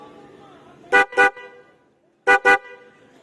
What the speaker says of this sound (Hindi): तो ये हमारा हॉर्न काम कर रहा है।